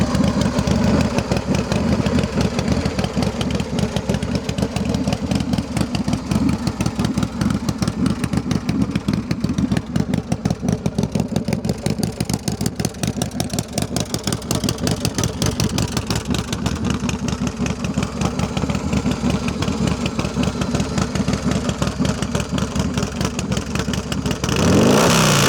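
A Big Dog Bulldog motorcycle with a 106 engine, S&S carburetor and near-straight pipes runs steadily and loud, a rapid thumping idle with throttle blips throughout, close up.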